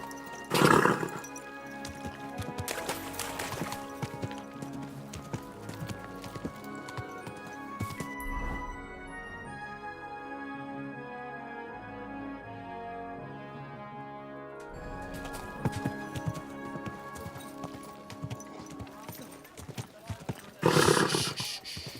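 Horse hooves clip-clopping with a whinny in the medieval video game Kingdom Come: Deliverance 2, irregular hoof steps and snorts over a soft musical score, with louder bursts near the start and end.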